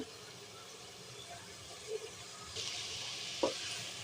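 Beef with cabbage frying in oil, a faint continuous sizzle that swells midway, with a few soft stirring knocks.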